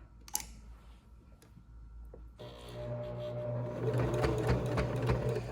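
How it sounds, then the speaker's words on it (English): A sewing machine stitches through several layers of mask fabric. A few quiet clicks come first, then the motor whirs up and keeps running steadily, close by and moderately loud, with no talking. "you're gonna hear your machine is working harder because we're going through multiple layers of fabric"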